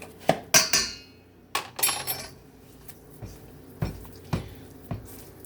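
Ciabatta dough being mixed in a bowl, heard as a handful of sharp clinks and scrapes from a utensil against the bowl, spaced irregularly with quiet gaps between them.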